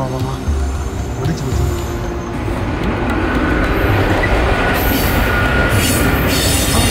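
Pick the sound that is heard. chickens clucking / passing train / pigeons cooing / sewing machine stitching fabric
passing train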